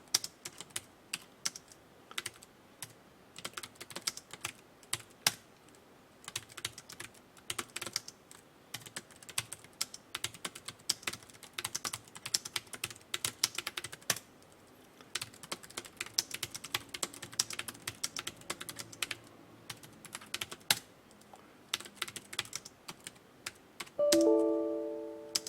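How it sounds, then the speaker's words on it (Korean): Fingers rattle steadily across a computer keyboard while entering text in a Hangul word processor, a dense run of close, crisp keystrokes lasting over twenty seconds. A brief tone sounds near the end. "기억 다음에 있는 내용들을 그냥 타이핑 쳐주시면 됩니다"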